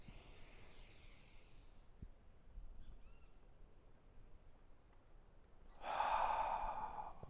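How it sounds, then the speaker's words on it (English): A deep inhale through the nose during tai chi warm-ups in a garden: a quiet pause, then one long, soft, airy breath near the end. "Deep inhale through the nose if you can."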